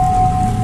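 Steady rain falling during a rainy-night horror tale, an even wash of patter with a low rumble beneath and a thin steady hum, continuous and fairly loud across the whole moment.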